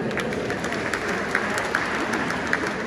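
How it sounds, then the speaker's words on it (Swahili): A church congregation claps during a joint service of united churches at a KKKT church, a dense, even patter of applause at moderate distance with a few sharper claps standing out. "mpongeze kwa makofi."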